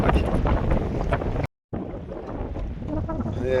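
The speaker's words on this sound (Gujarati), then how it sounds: "કેમ કે આમાં પવન વધારે છે, હેરાન થશું આપણે" Strong wind buffets the microphone on open water aboard a small fishing boat, a loud continuous roar with gusty rumble and splashing, briefly cut off then resuming.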